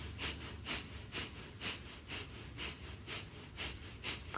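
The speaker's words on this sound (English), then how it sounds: "Kapalabhati, which is known as breath of fire." Kapalabhati breath of fire: about nine sharp, forceful nasal exhales at a steady, quick rhythm, close and fairly quiet, with passive inhales between and no talking.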